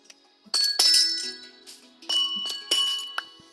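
Amethyst crystal blocks in Minecraft Pocket Edition give off bright glassy chimes, several separate tinkling rings that each fade slowly into silence, with short gaps between them.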